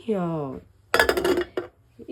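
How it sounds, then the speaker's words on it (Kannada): A pressure cooker lid is fitted shut with a short cluster of close metallic clanks and clinks, after a brief bit of voice at the start. "so cooker ಮುಚ್ಚಿಬಿಡೋಣ"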